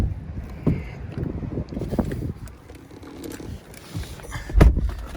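Strong wind during a windstorm buffeting the microphone in low rumbling gusts, uneven and blustery, with a sharp thump near the end.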